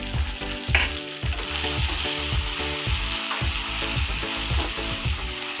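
Boiled garlic and spices fry in hot oil for a small-fish curry, a steady close sizzle broken by regular scraping stirs of a spoon through the pan, with no talk over it.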